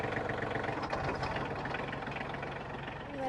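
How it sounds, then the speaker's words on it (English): Tractor engine idling steadily while hooked up to power a Frontier DH8 wood chipper, a continuous low rumble close by with no voices. "So we're going to start the tractor and run it at idle speed."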